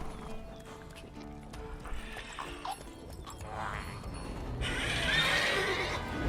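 Horse from The Witcher 3: Wild Hunt whinnying and clip-clopping in game, hoof steps steady through the first half, then a louder neigh near the end over busy game ambience.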